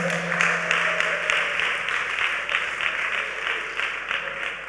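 A church congregation claps steadily throughout, a sustained wash of applause with faint rhythmic pulses and a voice speaking French beneath it.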